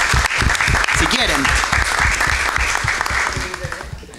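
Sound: applause for a graduate at council session

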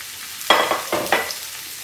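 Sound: potatoes frying in oil on full flame

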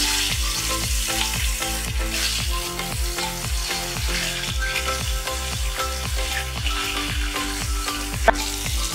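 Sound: climbing perch fish frying in mustard oil

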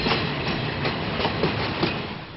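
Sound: freight train carrying military cargo on rails

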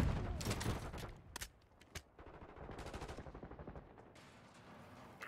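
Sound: gunfire in the video game Call of Duty Black Ops 6

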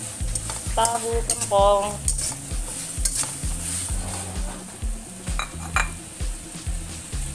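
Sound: stirring sour spicy shrimp and tofu while cooking

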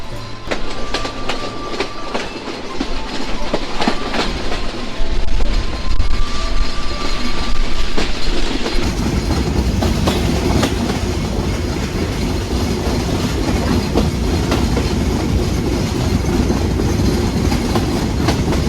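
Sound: Rupsha Express train running on the rails

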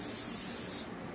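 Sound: Pam cooking spray sprayed onto a pan

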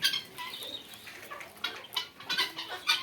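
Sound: Japanese quail birds

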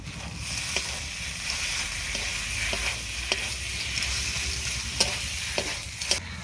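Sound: stirring cooked taro leaves with ground garam masala

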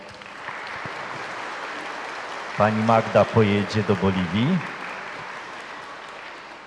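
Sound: parish audience applause

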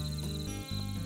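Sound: crickets chirping

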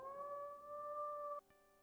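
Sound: wolf howling in video game WolfQuest

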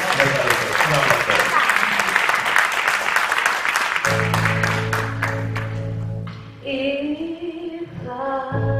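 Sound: audience applause

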